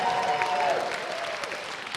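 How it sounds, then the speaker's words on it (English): An opening-night audience gives a round of applause for sponsors, a dense, steady clapping that holds at even loudness throughout with no voices. "nice round of applause for them"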